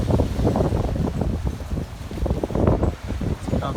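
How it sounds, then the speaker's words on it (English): Strong wind buffets a microphone on a windy day in San Francisco, making continuous low rumbling gusts and roaring bursts that never let up. "It's very windy here."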